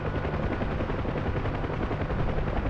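A Bell UH-1 Huey helicopter from the DCS flight simulator flies with a loud, dense, unbroken roar of rotor and engine that holds steady throughout.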